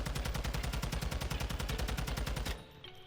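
Rapid automatic gunfire from a Modern Warfare 2 weapon while the player jumps, a loud, steady stream of evenly spaced shots for about two and a half seconds before stopping abruptly into near silence.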